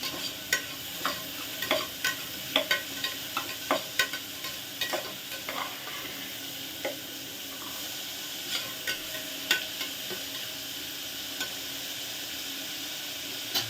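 Onions sauté in a pan for a paneer gravy, giving a steady frying hiss broken by scattered sharp crackles and pops. No one speaks.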